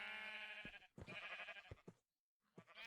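Sheep on a farm in a Minecraft-style video game bleat in several wavering, close cries, with a brief silent gap before one last bleat.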